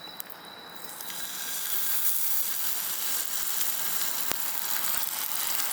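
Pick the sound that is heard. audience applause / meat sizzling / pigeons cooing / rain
meat sizzling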